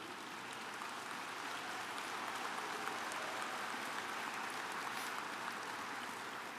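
Steady, dense audience applause fills a large hall at the 2012 Berkshire Hathaway annual shareholder meeting, a continuous even wash of many hands clapping with no talk over it.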